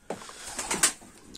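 Pigeons coo softly in a few low, throaty bursts, with flapping and scuffling noises mixed in nearby.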